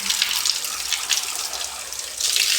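A kitchen tap runs over fresh coriander leaves as they are washed, a continuous close hiss with small splashy variations that swells louder near the end. No one speaks.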